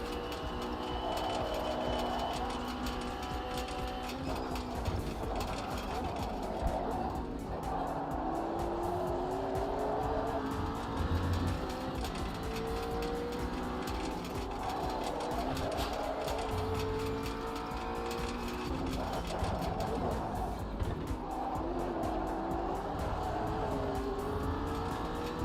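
McLaren race car in a racing video game, its engine droning steadily and loud throughout with rising and falling pitch sweeps as it shifts gears, and tire squeal cutting in at corners.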